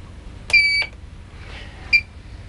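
Electronic beeps from the computerized control panel of a FACEMASTER facial device: a sustained, bright tone followed after a pause by a second, much shorter beep, both clear and close against quiet background with no talking.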